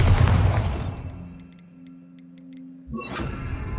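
A Bombarda spell explosion in Hogwarts Legacy bursts loudly at the start, fading into quiet tones and chimes before a second booming blast erupts near the end.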